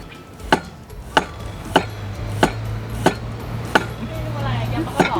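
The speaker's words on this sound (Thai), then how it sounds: "เริ่มกันตอนการ ซอยหอมแดงกันเลยดีกว่านะทุกคน" A knife slices shallots on a cutting board, about eight sharp, evenly spaced knocks at a steady pace over a low background hum.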